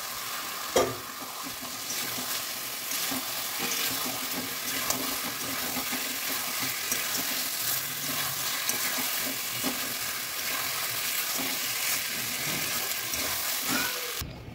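Meat and potatoes frying in spiced masala in a pan, a continuous close sizzle with scraping stirring strokes and occasional clinks, steady throughout without talk.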